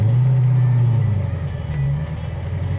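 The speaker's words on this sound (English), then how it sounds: "So far, everything's going real well on our 72 Charger. Seems to be driving around well." A 1972 Dodge Charger with a rebuilt transmission cruising along, its engine a steady low drone with road rumble, loud and continuous from inside the car, no voices.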